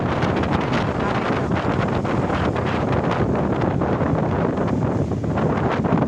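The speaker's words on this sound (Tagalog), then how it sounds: "sobrang lakas po ng hangin. Sobrang laki ng alon." Strong wind roars and buffets the microphone continuously, with crashing waves and rushing water mixed into the steady, loud noise, at an abandoned seaside resort in Bucana.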